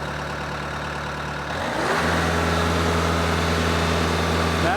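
Kubota LX3310 compact tractor engine holding a steady idle, then throttling up about two seconds in and sustaining a loud, high-RPM drone at maximum throttle for the rest of the clip, close to the microphone.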